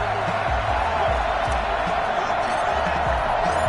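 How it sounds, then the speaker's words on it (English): A sold-out football stadium crowd cheers at an NFL Week 14 game between the Buffalo Bills and Pittsburgh Steelers as the Bills enter, a broad continuous roar with scattered thumps and shouts. "a moment ago they entered to the delight of this sold-out crowd"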